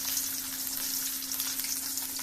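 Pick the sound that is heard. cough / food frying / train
food frying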